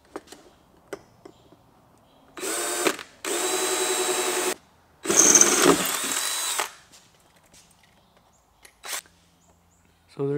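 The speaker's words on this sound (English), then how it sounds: "Let me get this drilled out." A power drill bores a hole in a plastic chemical sprayer tank, three loud whining bursts of a few seconds each with short pauses, followed by a few quiet handling clicks.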